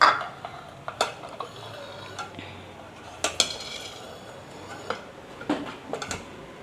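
Thattu idli plates being stacked into an idli pot, giving scattered light metallic clinks and taps at an irregular pace, close and moderately quiet.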